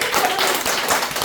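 A small group claps steadily through a short burst of applause at a Korean hair-salon training seminar, dense and continuous, with no talking.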